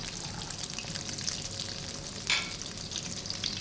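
A mushroom omelette with holy basil and fish sauce frying over medium-high heat gives a steady, close crackling sizzle, with a brief sharper burst of spatter midway.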